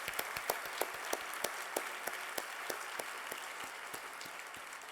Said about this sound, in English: So let's give our industry a big round of applause as well.